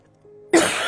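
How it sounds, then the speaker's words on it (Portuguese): A single sharp, loud cough from an adult preacher with an allergy, bursting in after a brief quiet hum and leaving a noisy tail. "Estou com uma tosse, uma alergia danada."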